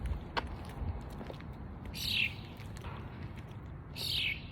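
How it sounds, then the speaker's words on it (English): Bird chirps sound outdoors in two short, bright descending bursts a couple of seconds apart, moderately faint over a soft background rustle with a few faint clicks. "He's chirping."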